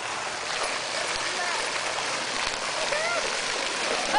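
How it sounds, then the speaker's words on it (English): A dog splashes through water at an outdoor dog party, a dense, continuous rush of churning and spattering water close to the microphone for several seconds. "You're splashing."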